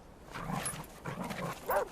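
Domestic dogs at play produce short yips, whimpers and growly vocal bursts in quick irregular succession, fairly close and moderately loud, with no speech over them.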